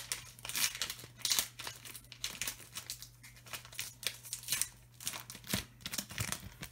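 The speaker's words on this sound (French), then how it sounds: "je vais être obligé d'ouvrir par derrière le booster" A Pokémon Destinées Radieuses booster pack being torn open from the back, with repeated close, crisp bursts of foil crinkling and tearing over a low steady hum.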